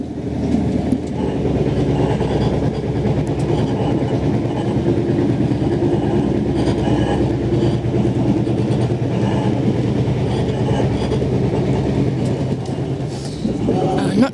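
Sydney train running on rails on the trip toward Canberra, a loud, continuous rumble with steady wheel clatter heard from on board, lasting throughout with no talk.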